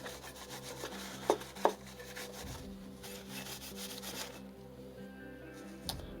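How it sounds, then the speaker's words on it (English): A carburetor float is scrubbed by hand to clear a chalky brown residue, giving a steady close rubbing rasp with two sharp clicks early on and a brief knock near the end. "Let's scrub that float."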